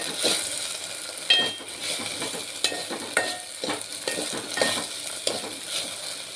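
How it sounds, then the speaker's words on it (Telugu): Small cut okra pieces deep frying in hot oil, a steady crackling sizzle with sharper pops and stirring clatter scattered throughout, close and alone with no talk. "బెండకాయ ముక్కలు చిన్నగా కట్ చేసుకొని ఇలా డీప్ ఫ్రై చేసుకోవాలి."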